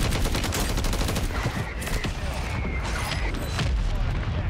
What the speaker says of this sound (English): Mortar strike on the way.